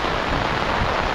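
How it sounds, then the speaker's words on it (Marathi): Heavy monsoon rain pouring steadily in the Malvan countryside, a dense unbroken roar of water with no pauses. "तर आज खूपच पाऊस आहे, भरपूर आहे पाऊस."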